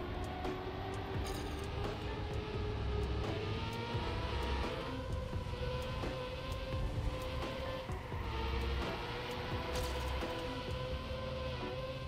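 Trackmania race car engine droning steadily for the whole stretch, a continuous mid-pitched hum that holds level with only slight shifts in tone, loud and alone with no talking.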